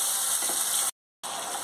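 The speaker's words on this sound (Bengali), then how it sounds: "এবার আমি এই পেস্টটা দিয়ে দিচ্ছি, আদা, রসুন, লঙ্কা আর পেঁয়াজ, আমি ভালো করে কষিয়ে নেব।" Ginger, garlic, chilli and onion paste fries in hot oil for a Bengali doi katla fish curry, giving a steady close sizzle that cuts out briefly and resumes.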